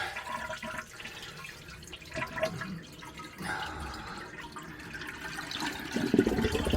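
Water drains from a toilet tank during a fill valve repair, a steady trickling and gurgling flow that swells louder toward the end.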